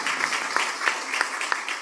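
Audience applause at an international conference, a steady wash of many hands clapping with a few sharper individual claps standing out, fairly close and without talk.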